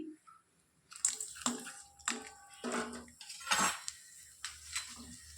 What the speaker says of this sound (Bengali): এখন এই পাঁপড়গুলোই ভাজি